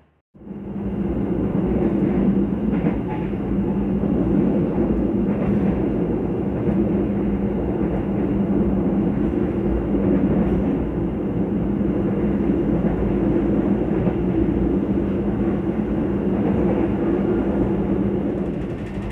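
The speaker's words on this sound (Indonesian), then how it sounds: "kereta api Lodaya sesaat lagi persiapan masuk stasiun Klaten" The Lodaya passenger train rumbles along the rails in a loud, continuous roar heard from inside the carriage, steady throughout with no talking.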